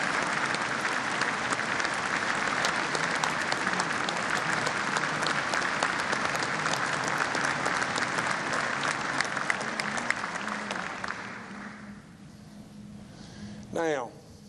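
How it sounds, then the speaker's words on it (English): Loud, sustained applause fills a large hall at the 2018 West Virginia State of the State address, honoring the chief of staff and secretaries, with cheers mixed in before it fades near the end. "give a great big round of applause for our chief of staff and all of our secretaries here"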